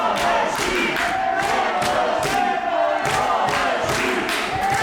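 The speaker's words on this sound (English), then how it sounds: "Crowd here in the German capital enjoying every single moment of this one" A large wrestling crowd in Berlin cheers and roars continuously, with rhythmic bursts of chanting or clapping pulsing through a dense, loud wall of voices.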